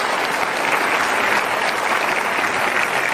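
A studio audience gives sustained, even clapping for a regent of Purwakarta re-elected to a second term. The applause is dense and loud and fills the whole stretch.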